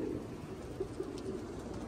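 Racing pigeons coo softly in a backyard loft setting, a few low, faint murmuring calls over quiet outdoor background noise.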